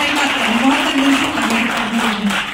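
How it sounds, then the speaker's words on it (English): An audience at a movie trailer launch event claps in a loud, continuous burst while a voice carries faintly over the top. "I think we should all clap for him"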